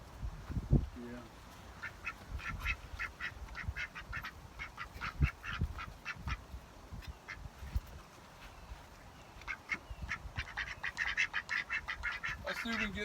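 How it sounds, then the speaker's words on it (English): Ducks quacking outdoors as rain approaches, a steady run of nasal quacks from several birds, some near and some farther off, growing busier toward the end. Faint voices talk in the background. "I have to watch these ducks."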